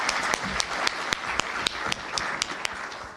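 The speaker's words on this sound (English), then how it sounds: "Get one more round of applause, please." Audience applause after a lecture by an AI professor, a steady wash of clapping from a crowd in a hall with a few sharper individual claps standing out, moderately loud and without talk.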